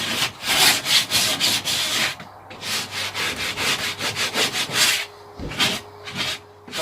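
A block plane chamfers the corner of a wooden window frame in quick, close, rhythmic rasping strokes, about a dozen short shaves with brief pauses between bursts.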